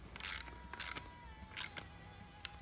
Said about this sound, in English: I'm using a torque wrench, and I'm only going to choose like 4 Newton meters